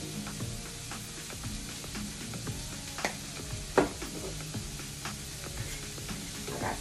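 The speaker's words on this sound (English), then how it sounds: "right now, I'm just sauteing it a little bit" Heart of palm sautés in a pan with a steady, close sizzle, broken by occasional stirring scrapes and clinks and one sharper clack near the middle, with no talking.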